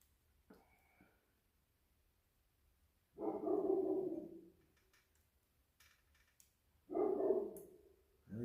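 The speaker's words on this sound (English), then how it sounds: "we'll go see what the dog's barking at" A dog barks in two short bursts several seconds apart, moderately distant over a quiet outdoor background, with faint birdsong in between.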